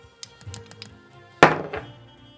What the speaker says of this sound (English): I just rolled a natural 20.